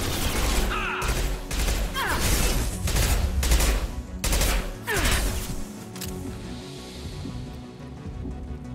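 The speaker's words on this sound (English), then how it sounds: "Firing a high impact shot." Heavy, high-impact gunshots in a video game, fired as a series of about five loud, separated blasts with booming tails, under a steady bed of game music and ambience.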